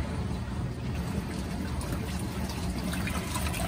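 A small washing machine in a 19-foot RV runs its wash cycle, a continuous dense rumble with sloshing water and a steady high whine, close and unbroken throughout.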